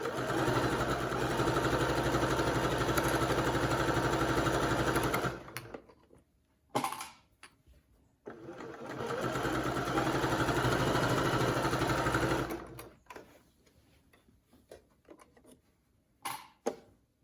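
Sewing machine stitching the seam of an infinity scarf, two long bursts of fast, even mechanical whirring, each stopping abruptly and followed by quiet pauses with faint clicks and handling noises.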